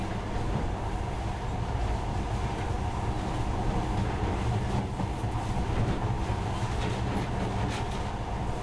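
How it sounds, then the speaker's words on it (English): A monorail train running steadily in the video game Metro: Last Light, a continuous rumbling rail drone with faint clatter, close and even throughout. "In the past, trains were ordinary things. But now, this monorail seems magic, doesn't it?"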